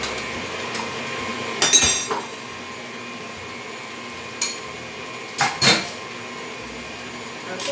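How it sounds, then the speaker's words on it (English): A mixing spoon clinks and scrapes against a bowl while stirring low-flour healthy brownie batter, giving a few irregular clattering knocks close up amid quiet kitchen background. "we need to get a mixing spoon now"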